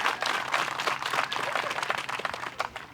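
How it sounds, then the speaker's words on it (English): Scattered applause from a spectator crowd at a pro disc golf tournament championship, a loose patter of claps from many hands with uneven bursts, moderate and a bit distant. "Scattered applause."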